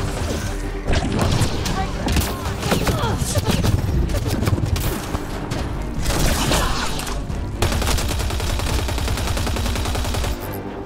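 Rapid bursts of gunfire and crashing impacts from combat in the video game Mass Effect Andromeda, loud and dense, nearly continuous for the whole stretch with music and effects underneath.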